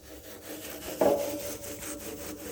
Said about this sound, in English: Right now, I'm just rubbing a little bit of red onion on the grill.